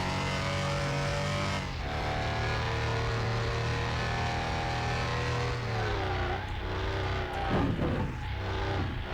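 Porsche 964 RS in Car Mechanic Simulator 2021, engine note rising steadily through the gears with a lift around the shift, then a few sharp bursts near the end as it brakes; loud, close and continuous with no talking.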